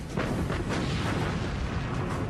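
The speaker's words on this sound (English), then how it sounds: "Bismarck fires her 8 15-inch guns." The battleship Bismarck fires a broadside from her eight 15-inch guns, heard as a continuous heavy booming rumble with rolling low thunder that holds loud throughout.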